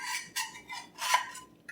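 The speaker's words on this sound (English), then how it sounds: "I'm going to take this out of the pan and plop it on my tortilla" A fried egg lifted with a metal utensil out of a restored Lodge No. 5 cast iron pan, a few light scraping clinks of metal on iron, close and fairly quiet, with no voice.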